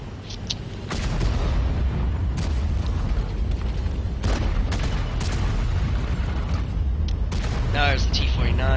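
Tank cannon fire in the World of Tanks video game, a few heavy booms over a constant engine rumble, with someone talking through the battle.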